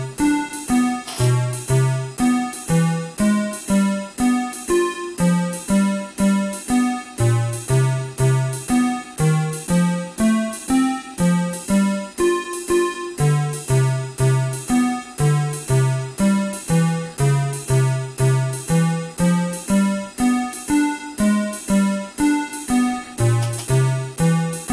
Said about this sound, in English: And now the full walking bass sounds like this.